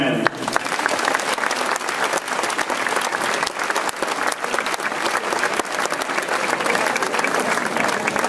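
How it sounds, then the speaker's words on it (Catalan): Big audience applause at a festival humour performance, the Embajada Humorística in Novelda, a loud, dense, sustained clapping from a crowd that fills the whole stretch without talk. "per això li demanarem un gran aplaudiment"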